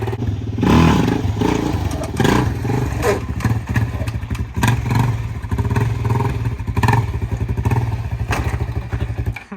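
Quad bike engine idling and revving nearby, a loud rough chugging with clattering thumps, people talking over it now and then.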